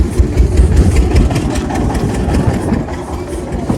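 A tractor engine idling near a brick load: a loud, steady low rumble with an uneven chug that runs throughout with no talking.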